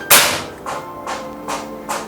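A Ghost Warrior 360cc PCP air rifle loaded with QS pellets fires a single sharp, loud shot near the start, followed by several softer, evenly spaced thuds.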